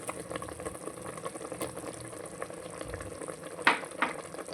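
Ginger garlic paste frying with browned onions in a pan for chicken biryani, a steady low sizzle and bubbling with a couple of sharper scraping clatters near the end.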